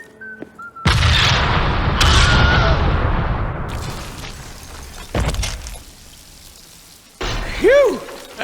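C4 explosion in Deadpool: The Game: a loud, close blast that erupts suddenly and rumbles with debris, a second burst right after, then fades before a ringing, whooshing tail.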